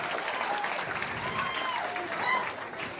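A comedy show audience claps in a dense, sustained wash of applause, with scattered whoops and voices mixed into the crowd noise.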